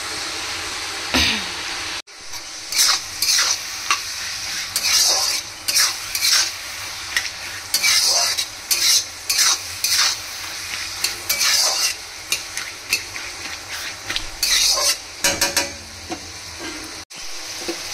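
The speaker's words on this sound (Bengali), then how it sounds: "তো এখানে এখন মাংসগুলো ভালো করে ভাজা হচ্ছে" Pieces of country chicken frying in a pan, the oil sizzling steadily while a utensil stirs them in repeated scraping strokes; close and fairly loud, with no talking.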